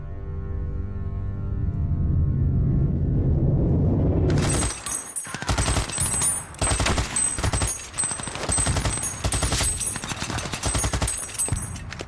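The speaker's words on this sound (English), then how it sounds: "They emerge from their trenches to face fierce German machine gun and artillery fire." After a low rumbling build, German machine gun and artillery fire erupts at a Battle of the Somme trench assault, loud dense bursts of rapid gunfire and blasts cracking continuously for several seconds.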